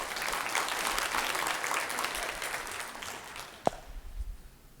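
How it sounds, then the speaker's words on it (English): Audience applause at a talk introducing a free storytelling app, a steady wash of clapping from a room of listeners that builds for several seconds, ends with a sharp clap, and then fades out. "Let's have a round of applause."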